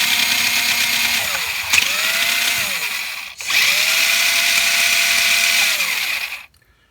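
Electric motor of a vintage Tamiya Frog RC car whirs loudly and steadily at close range, winding down and spinning back up partway through, then cutting off abruptly.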